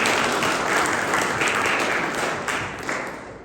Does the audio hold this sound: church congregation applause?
yes